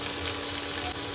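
Onion, green chilli and tomato fry steadily in a hot pan for a sprouted-bean curry, giving a continuous soft sizzle with faint stirring, heard alone at low volume.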